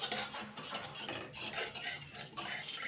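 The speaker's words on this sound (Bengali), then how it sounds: "এই উষ্ণ গরম জলেই আর কি বেসনটাকে মাখতে হবে, ভালো করে গুলে নিতে হবে নুন আর ওই পেপার খাড়টা" Besan flour is stirred with salt and pepper in warm water, giving a close, scraping, swishing rhythm of a utensil working the paste against the bowl. The sound is brief and continuous, with no voices.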